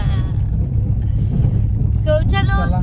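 A CNG car drives along a rough, potholed village road, its low engine rumble and road noise steady throughout, with talk heard over it.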